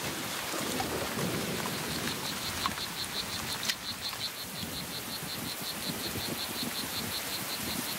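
Heavy tropical rain and a thunderstorm in the Costa Rican wild, a dense, steady downpour drumming on surfaces with a distant rumble of thunder and insects chirping rhythmically beneath.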